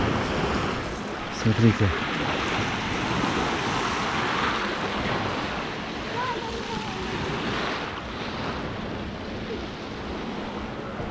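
Sea waves wash steadily on the shore at Yalta, a continuous surf roar mixed with wind buffeting the microphone, with a brief spoken word near the start.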